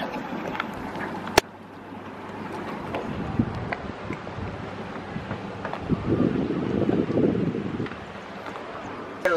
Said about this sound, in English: I don't know if y'all can hear me because it's kind of windy